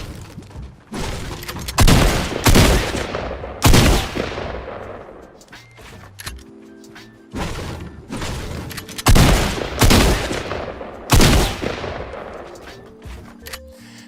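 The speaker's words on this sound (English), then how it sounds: "pickaxe both walls once if they're wood, then shoot each of the walls one time with your shotgun" Repeated loud shotgun blasts tear through wooden walls in Fortnite, coming in close pairs of sharp bursts with decaying crashes and brief gaps between, alone with no talk.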